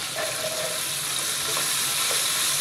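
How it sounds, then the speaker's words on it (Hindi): Okra (bhindi) frying in hot oil in a pan, a continuous fairly quiet sizzle with faint crackles and no voices. "तेल जब गर्म हो जाए तो अपन भिंडी डाल देंगे"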